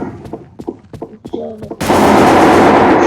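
Gunfire in the online shooter Wolfteam: sharp separate shots with someone talking over them, then a sudden loud continuous burst of blasts filling the last second.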